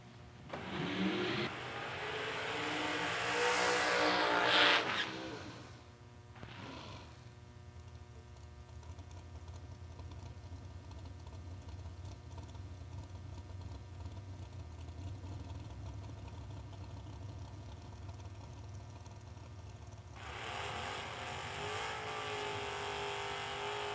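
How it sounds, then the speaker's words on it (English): Drag race cars at the Laris Motorsports $250K event do burnouts, with a loud engine roar in the first few seconds, a steady engine drone through the middle, and the roar swelling again near the end. "Burnouts complete for this pair."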